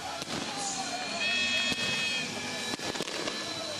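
Fireworks bursting in the distance over Poltava at a Shakhtar–Dynamo Super Cup football match, several sharp bangs and crackles spaced irregularly over a faint background hum.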